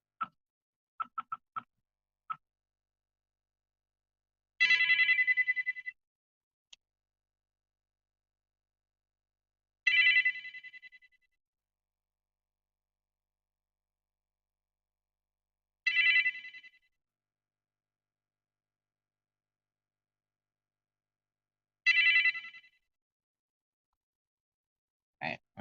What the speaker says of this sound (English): Alright, I ring it about 4 times because it'll go to voicemail if I ring it anymore.